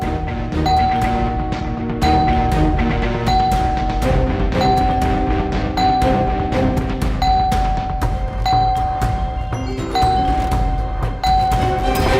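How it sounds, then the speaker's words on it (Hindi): Doorbell chimes ring again and again in rapid succession, bright ding-dong tones repeating steadily over a dense, loud music-like background with no pause. "ऐसे कौन बिल बजाता है?"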